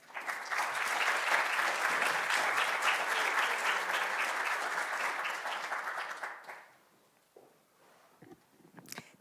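An audience in a lecture hall applauds to welcome lecturer Carson Ellis, a loud, sustained burst of clapping from many hands that fades out after about six seconds, followed by faint rustling.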